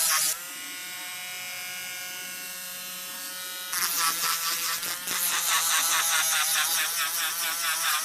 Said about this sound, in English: I am using a fine bit sander, and what that is this here. This is a fine bit sander.